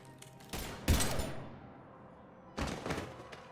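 Gunfire in the video game Mass Effect 3, with a few loud, sharp bursts of shots separated by short pauses, and no talking over them.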